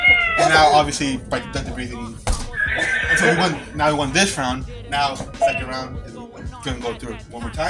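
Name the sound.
cat meows and horse neighs played by a music boxing machine toy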